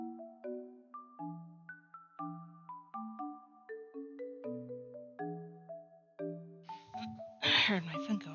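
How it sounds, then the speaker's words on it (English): A phone rings with a repeating chime melody of bright bell-like tones, steady and clear, ending with a burst of other sound over it. "I heard my phone go off."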